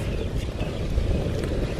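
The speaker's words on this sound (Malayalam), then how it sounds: "നല്ല കാറ്റുണ്ട്." Strong wind rushes past an outdoor cooking spot by the water, a steady, close, low rumble buffeting the microphone throughout.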